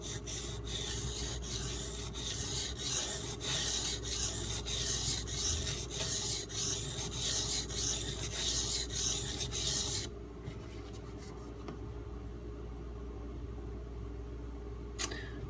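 Knife edge sharpened on a Norton water stone: steady rhythmic scraping strokes, close and even, that run continuously before easing into quieter, sparser rubbing with a final sharp scrape.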